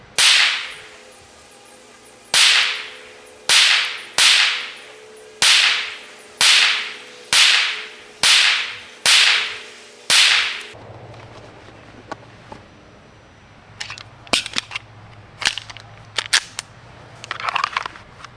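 A Wilson SFX9 pistol fitted with a red dot sight fires ten loud, sharp shots at a steady pace, roughly one per second, at close range. Quieter clicks and clatter of handling the gun follow.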